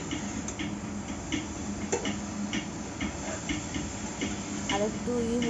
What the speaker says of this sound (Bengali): সিলিং পাংখার আওয়াজ, কিরকম আওয়াজ হচ্ছে